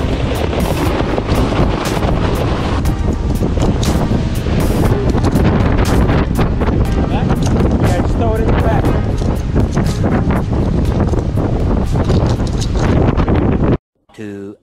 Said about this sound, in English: It is still windy here.